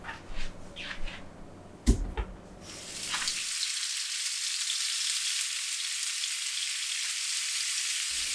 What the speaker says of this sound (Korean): 간장 한 큰술을 팬에 직접 닿도록 넣어요.